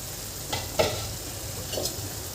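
Chickpea-leaf bhaji is stirred in a pan over low heat, a few soft spatula scrapes over a quiet, steady sizzle.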